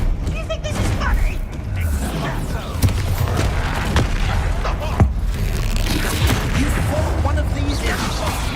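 Confringo blasting-spell explosions burst in Hogwarts Legacy as repeated booms and sharp cracks over a dense rumbling game-combat bed, with voices and dialogue mixed in.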